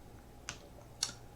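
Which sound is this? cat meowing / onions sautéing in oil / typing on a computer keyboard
typing on a computer keyboard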